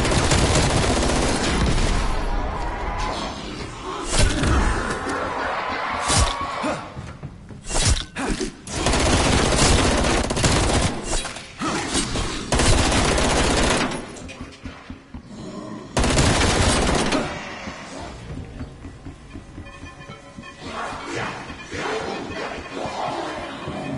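Video game gunfire at zombies, loud rapid bursts of automatic shots and blasts with crashing impacts, in repeated intense volleys separated by brief lulls.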